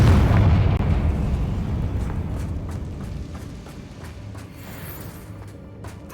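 Confringo spell blast in Hogwarts Legacy, a loud, close, heavy explosion whose deep rumble slowly fades, followed by faint scattered crackles.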